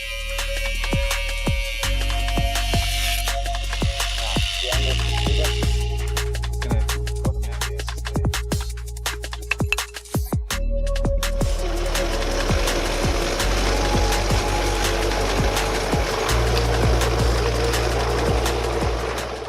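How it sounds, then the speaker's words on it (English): A wire wheel scours rust off a steel bracket to prep it for paint, a loud continuous abrasive whirring with whining tones and scratchy crackles that shift in pitch as the tool is pressed and moved. "then we're using the wire wheel to get it ready for paint"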